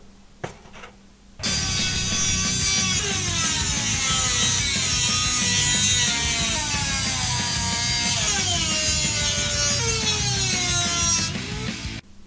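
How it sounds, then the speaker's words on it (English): Dremel rotary tool cutting through a computer case fan grill, a loud continuous high-pitched grinding whine whose pitch dips and recovers under load, running steadily for about ten seconds before stopping, with no speech. "So I'm going to get to it with a Dremel tonight."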